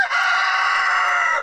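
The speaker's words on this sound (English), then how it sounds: "Out here letting the chickens out for the day" A rooster crowing at a homestead chicken coop, one loud, close, sustained crow lasting over a second, heard alone.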